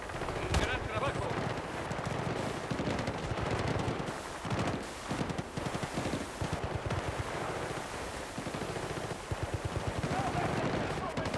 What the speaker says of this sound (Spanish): se oyen disparos